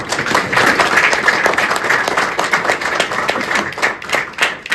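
An audience at a business seminar applauds steadily for several seconds. Many hands clap together as a dense, even burst of applause, with no talking over it.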